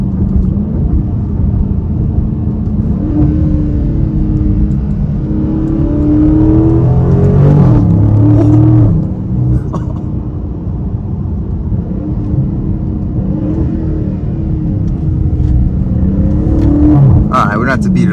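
A 2023 Dodge Charger Scat Pack Widebody Swinger Edition in track mode accelerates, heard from inside the cabin as a muffled, steady engine drone that swells and rises in pitch midway before settling back.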